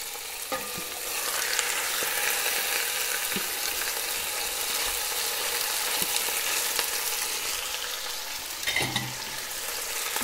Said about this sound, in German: zuallererst gebe ich das Olivenöl in meinen Topf und brate zunächst das Fleisch von allen Seiten scharf an.